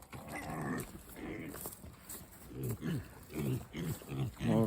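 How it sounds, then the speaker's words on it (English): A group of Kunekune pigs eating at close range, with overlapping grunts, snorts and chewing noises coming in uneven bursts. "All the pigs eating."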